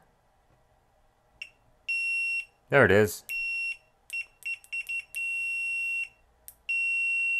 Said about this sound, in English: this one's got a nice loud beeper too